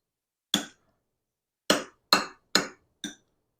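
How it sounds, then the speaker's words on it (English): A spoon clanks against a pot while browned, drained ground beef is stirred into a stuffed bell pepper filling: five sharp, close metallic knocks, one alone and then four in a quick uneven cluster, with silence between and no talking. "We're going to stir it in."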